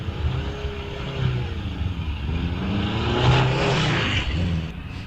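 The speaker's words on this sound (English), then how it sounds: "500cc motorcycle engine cars as the Kellaway car goes across the front of the house" A 500cc motorcycle-engined race car at the Wiscombe Park hillclimb, accelerating past a house with a steady, rising engine drone that swells slightly toward the middle, heard at moderate distance with no talk.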